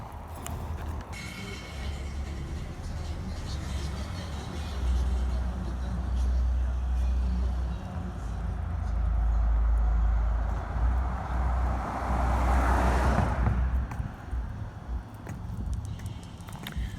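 Car passing on a street in Pasco during an evening walk, a broad rumble that swells and fades over many seconds amid outdoor noise, with a faint voice at times.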